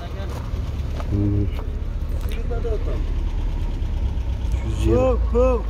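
A 1994 Opel 1.6 car engine idles with a low, steady rumble while voices speak nearby over it.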